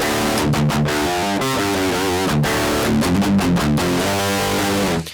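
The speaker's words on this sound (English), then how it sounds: "If you take the sound of your real amplifier without a cabinet, this is the sound that you get." Distorted electric guitar runs through an amp simulator modelling an Emissary amplifier with no cabinet impulse response, giving a harsh, fizzy, buzzing tone as a busy riff plays loud and close for several seconds.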